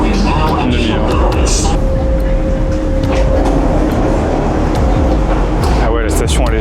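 Metro train riding through an underground line in China, a steady loud rumble of wheels and carriage noise filling the whole stretch, with a faint sustained tone midway and brief sharper rattles near the end.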